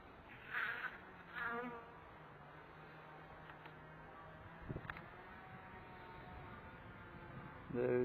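Honey bees gather at a hive entrance on a cold winter day in Northern Missouri, with only a few on the landing board; a faint, steady buzzing hum runs throughout, with a couple of brief louder bumps.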